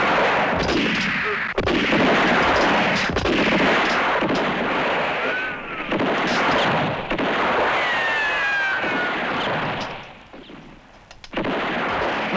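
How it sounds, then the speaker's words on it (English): A Western shootout erupts in dense, loud gunfire, repeated sharp shots and booming blasts overlapping almost without pause, with a brief lull before more firing. "Let's shoot it out all together."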